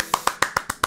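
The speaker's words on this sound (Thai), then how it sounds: "ปรบมือ" Six sharp hand claps in a steady, evenly spaced rhythm, close and clear with nothing else behind them.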